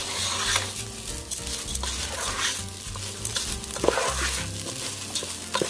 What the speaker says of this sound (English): You can see I'm mixing it all up, and it's browning the rice even more